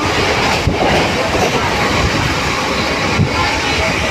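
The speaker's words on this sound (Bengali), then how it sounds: "আবার যেতে লোকাল ট্রেন ধরবো। আপনারা জানেন এইভাবে ট্রেনে আছি এখন।" Inside a moving local train between Sealdah and Gede, the carriage gives off a steady, close rumble and rushing noise, broken by two brief knocks. Nobody speaks.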